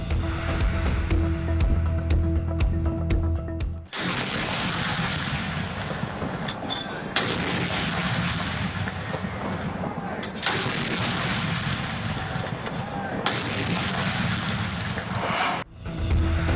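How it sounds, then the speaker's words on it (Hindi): A ceremonial cannon salute for Eid Milad-un-Nabi: heavy booming shots at intervals of a few seconds, each followed by a long rumbling echo, loud and outdoors. "तोपों की सलामी से दिन का आगाज"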